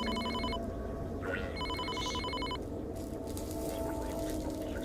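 A telephone bell rings in two bursts of trilling rings with a gap between them, over a steady background hum and low rumble, with no one speaking.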